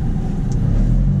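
An Alfa Romeo 4C sports car on the move, its engine giving a loud, steady low rumble from inside the cabin with no voices over it.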